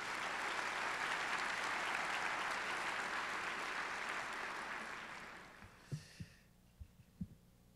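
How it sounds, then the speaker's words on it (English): Applause at a Jefferson Parish inauguration ceremony swells steadily, then fades out, leaving a few isolated thumps and claps in a quiet room. "Could you please give them a round of applause?"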